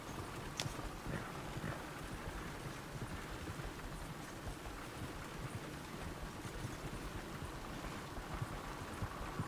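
Horse hooves galloping in the video game Red Dead Redemption 2, a continuous rapid clip-clop under a rushing wind-like wash, steady and moderately loud throughout.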